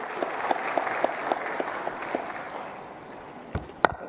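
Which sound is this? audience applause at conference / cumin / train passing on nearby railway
audience applause at conference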